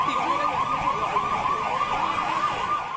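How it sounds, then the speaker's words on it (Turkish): Rocket warning sirens sounding in Israeli streets in May 2021, a fast, repeating rise-and-fall wail that holds steady and moderately loud throughout, with faint traffic-like rumble beneath. "Siren seslerini duyan sokaktaki İsrailliler büyük panik yaşadı."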